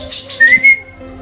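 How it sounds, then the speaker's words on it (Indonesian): A person whistles to call a lovebird in free flight, two short, clear, high whistled notes, the second held a little longer, close and loud over quiet background. "Pas dia terbang itu sambil kita panggil pakai siul gitu, biar dia berputar karena merespon suara tadi"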